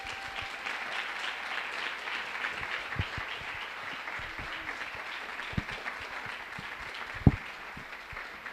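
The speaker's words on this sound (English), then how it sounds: "Please give him a really big round of applause." An audience applauds a speaker at a CreativeMornings talk in New York, steady, moderately distant clapping that carries on for several seconds, with a few louder isolated thumps and no talk over it.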